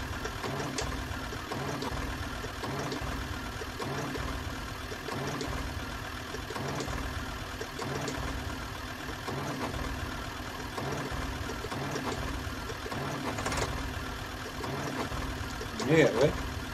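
Four-wheel-drive farm tractor engine running after a jump start from a truck, a faint, steady low idle with a rough rhythmic knock throughout and a brief louder clatter near the end.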